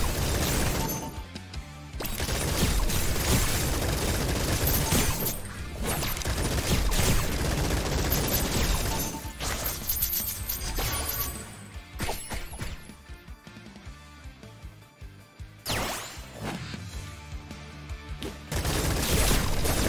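A minigun in Atomic Picnic fires in long, loud mechanical bursts mixed with crashes and impacts, surging and dropping in intensity, with a short lull before it picks up again.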